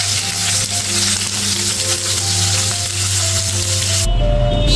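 Bay leaf, whole cumin, radhuni seeds and potato pieces frying in hot white oil, a steady loud sizzle with faint stirring, ending abruptly in a sharp crackling burst as the potatoes hit the oil.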